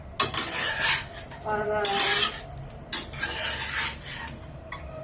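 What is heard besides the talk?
stirring a food mixture in a pan to spread sesame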